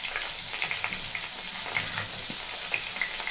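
Mixed winter vegetables with papaya sizzling steadily in a pan, a close, continuous fry with faint stirring scrapes.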